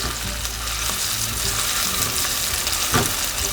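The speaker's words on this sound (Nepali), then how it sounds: "प्याजलाई अब एकछिन अलिकति ब्राउन हुने गरी फ्राई गरौँ।" Chopped onions fry in hot oil in a pan for a Nepali parwal and potato curry, a steady close sizzle with occasional stirring scrapes and no talk.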